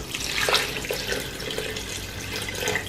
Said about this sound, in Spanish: Y vamos a ponerle el agua.